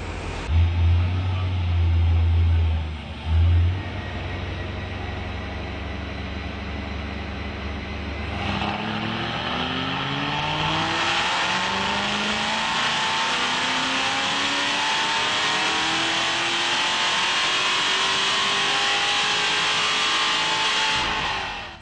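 Hennessey HPE650 Camaro on a chassis dyno: a loud engine idles with a couple of blips, then revs climb steadily through a long sustained pull, rising pitch holding near full volume until it cuts off at the end.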